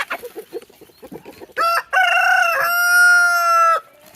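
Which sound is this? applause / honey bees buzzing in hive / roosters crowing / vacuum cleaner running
roosters crowing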